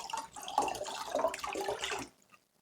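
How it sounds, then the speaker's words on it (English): Earbuds rinsed under running tap water, an uneven splashing gush lasting about two seconds before cutting off, close and moderately quiet, with no talking. "And you could just rinse it off with the water and it should be no problem."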